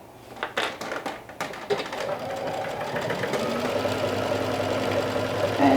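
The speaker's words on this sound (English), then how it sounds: "using a 1/4 of an inch seam allowance, I will sew all around" Sewing machine running a 1/4-inch seam around a woven bucket hat, starting with a few brief stitching bursts and clicks, then settling into a steady continuous hum that grows slightly louder, close up with no talk.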